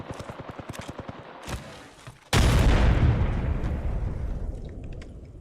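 A video game grenade goes off with a sudden loud boom and a long rumbling decay, following a quick run of rhythmic gunfire-like pops.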